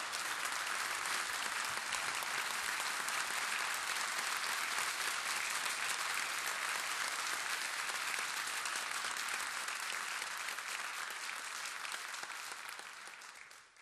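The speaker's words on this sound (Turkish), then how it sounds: "güçlü alkışlarınız devam etsin" Audience applause at a Turkish classical music concert, a long, even roar of many hands clapping, loud and steady throughout before tapering off at the very end.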